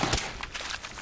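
Rapid rifle gunfire from the game Fallout 4, a dense burst of sharp shots close and loud throughout, with a faint game backdrop.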